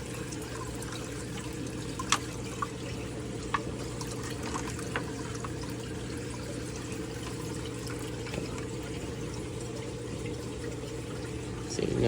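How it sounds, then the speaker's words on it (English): Water spills steadily into an aquarium sump like a small waterfall in a recirculating tank system, a continuous soft splashing trickle with a few faint clicks and a low background hum. "Now it's just a nice little like waterfall compared to that."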